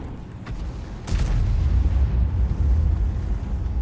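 A high-explosive round detonates against a tank in a tank battle video game, a sharp broadband blast near the one-second mark followed by a loud, sustained low rumble.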